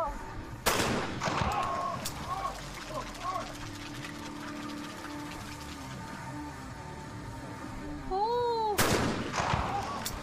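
Shotgun blasts at a women's trap shooting final at the 2021 Chinese National Games: two loud, sharp shots about eight seconds apart, with whistling and faint crowd ambience between them.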